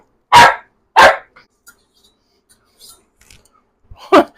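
Pet dogs barking indoors, two sharp close barks in quick succession, a pause with faint shuffling, then another single bark.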